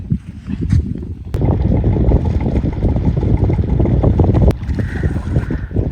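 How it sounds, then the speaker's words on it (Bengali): A wooden country boat crossing a river toward a remote sandbar char in Rajibpur, Kurigram, its engine giving a steady, close rumble under constant wind buffeting, with no voices. "ওই পার থেকে নৌকা চলে আসলো আমাদেরকে নেবার জন্য"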